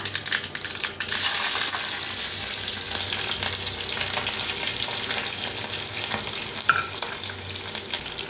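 Mustard seeds, green chili and curry leaves tempering in hot oil, a loud dense sizzle that surges after a second and holds steady, with a small metallic clink near the end.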